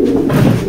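A female pigeon gives a short, loud, throaty coo very close by, a single low rolling call.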